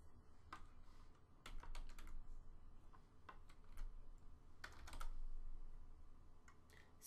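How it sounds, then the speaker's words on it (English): Someone types a search on a computer keyboard, quiet irregular key taps in quick clusters with short pauses, close and faint. "If I type a search in"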